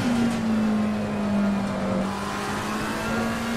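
A sim racing car accelerates out of a corner in a racing game, a steady engine tone rising and holding at moderate volume under light road noise, with no voices.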